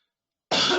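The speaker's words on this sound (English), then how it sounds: "It's just this really annoying cough" A single harsh cough from someone with a cold, loud and close, bursting out abruptly after near silence.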